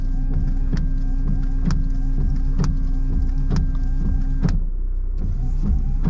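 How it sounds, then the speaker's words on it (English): A Honda Civic EK1's electric power window motor hums steadily upward for several seconds from inside the car, then stops with a soft thunk, followed by quiet cabin ambience. "let's put the window up for this one though"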